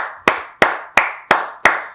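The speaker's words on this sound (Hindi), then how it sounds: "आमना जी के लिए तालियां।" A small team clapping for Aamna, five sharp, evenly spaced claps roughly a third of a second apart, close and distinct, each with a short decay.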